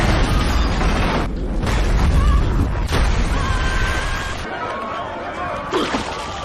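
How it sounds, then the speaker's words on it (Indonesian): A deep, rumbling roar of a large explosion from a leaking fuel train fills the space, heavy and sustained, with crackling debris and churning noise swelling and fading over several seconds. "sebuah kereta pembawa bahan bakar mengalami kebocoran membuat api menyala dan menimbulkan ledakan besar"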